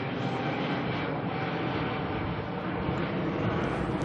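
An Airbus A321neo, flight NZ125 to Melbourne, departs Auckland with a steady, loud, roaring jet-engine rumble that holds level throughout, heard from outdoors at an airport.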